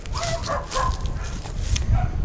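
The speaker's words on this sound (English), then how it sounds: "And that'd be the neighbor's dogs" Several dogs belonging to a neighbor bark and yip in short irregular bursts some distance off, with a steady low rumble of wind or handling noise underneath during an outdoor walk.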